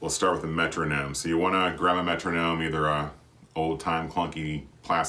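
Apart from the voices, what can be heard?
No distinct noise like a dog, phone or traffic.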